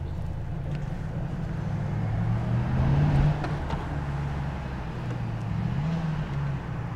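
A 2024 Mercedes-AMG GT63 S E Performance on a late-night drive heard through an open window, its low engine drone steady under wind and road noise, swelling briefly midway, fairly quiet and with no talk.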